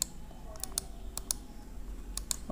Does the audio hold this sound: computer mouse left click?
yes